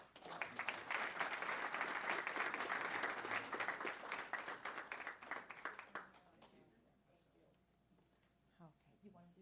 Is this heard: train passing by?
no